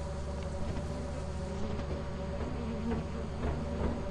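A soft, continuous buzzing of bees in a video game hums at low volume, a steady insect drone with slight wavering.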